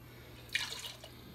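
Vegetable broth poured into a pot with heavy whipping cream on a stove gives a brief, faint liquid splash lasting well under a second, surrounded by a quiet, low kitchen hum.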